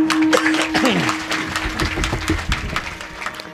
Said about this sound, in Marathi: सर्वांनी एकदा जोरात टाळ्या वाजवा बरं